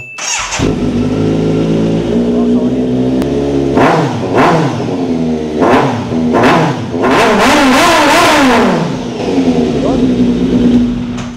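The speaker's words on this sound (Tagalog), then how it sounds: "So, ito isa naka-SC na titanium exhaust. Soundcheck natin to." A motorcycle fitted with an SC titanium exhaust revs hard several times in close, loud bursts, rising and falling between blips over a steady idle.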